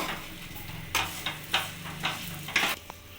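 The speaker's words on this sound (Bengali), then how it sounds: "এবার আমি ভালো করে এটাকে নাড়িয়ে চাড়িয়ে নেব" A spoon scrapes and stirs dal puri filling of lentil paste with toasted cumin paste in a pan over a low, steady sizzle, with a handful of sharp scraping strokes spaced irregularly; no talking.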